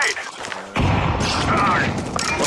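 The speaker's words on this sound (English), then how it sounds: "I'm throwing a grenade." A grenade goes off in Counter-Strike 2 as a sudden loud boom that cuts in about a third of the way through and rolls into a sustained rumble, over a dense backdrop of game noise and gunfire.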